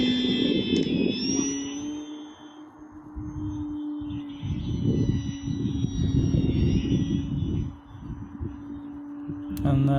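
An XFLY Tasman 1500mm RC airplane flies on a windy day, its motor giving a steady droning whine that rises and falls as it passes, with wind buffeting and a voice talking over it.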